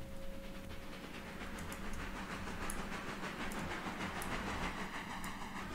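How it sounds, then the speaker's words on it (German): Freight trains in the railroad simulation game Railroader roll along with a steady rumble and rhythmic clicking of wagons over track joints, a faint sustained whine on top, moderately quiet and continuous. "Da kommen die beiden Züge wieder."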